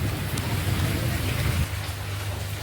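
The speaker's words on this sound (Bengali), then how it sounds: "আর বাইরে দেখুন প্রচুর বৃষ্টি হচ্ছে।" Heavy rain pours down outdoors during a downpour, a loud continuous rushing hiss over a low rumble that eases slightly partway through, with no voices.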